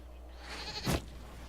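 A single short goat bleat from the Dynasty Warriors: Origins video game, near and fairly loud, rising briefly over steady low background hum.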